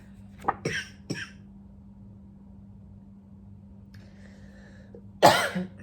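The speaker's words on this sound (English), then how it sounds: "Because I keep coughing." A few sharp coughs close together near the start, then a quiet pause before one louder, rougher cough. No one speaks.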